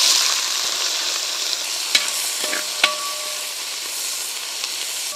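Shallots, about a kilo, frying in a pan with whole spices such as cardamom, mace and bay leaf, giving a steady close sizzle with a few sharp scraping clinks as they are stirred.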